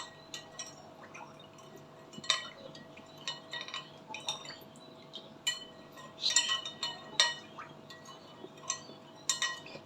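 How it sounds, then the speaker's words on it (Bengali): A spoon clinks against a glass or bowl while sugar is stirred into an orange jelly mixture, with light scattered taps and clinks, a few louder, spread unevenly across a quiet kitchen background. "চিনিটাও ভালোভাবে মিশিয়ে নিচ্ছি"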